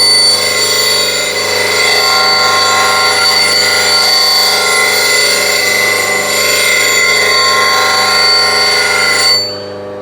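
Steady, loud grinding wheel sharpening a woodturning tool on a bench grinder, a continuous whine with strong ringing tones running unbroken for about nine seconds before easing off at the end.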